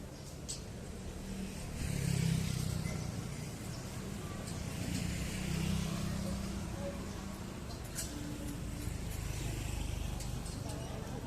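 A car engine revving hard in the old town area of Kota Tua, Jakarta, with rising and falling surges of engine roar over street ambience and a voice talking.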